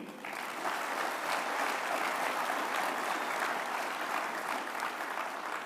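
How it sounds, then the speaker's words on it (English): At the Earl Campbell Award ceremony, a crowd gives sustained applause: an even, continuous wash of clapping that sounds somewhat distant and stays steady throughout, with no clear talking. "how about another round of applause for Joe Green, Haynes King"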